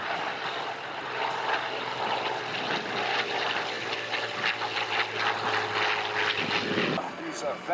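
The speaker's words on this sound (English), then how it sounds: "Oh, now that's a beautiful pass by our P-39." A P-39 propeller warbird makes a pass at an airshow, its engine drone steady and fairly close, while an announcer talks over it.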